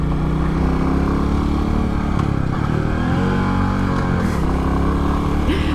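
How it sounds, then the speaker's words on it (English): Royal Enfield Bullet 350 single-cylinder engine thumping steadily under a rider on the road, loud and close, with a continuous low rumble and slight shifts in pitch as revs change, no talk. "as you change down gear, you can feel the surge of the engine braking"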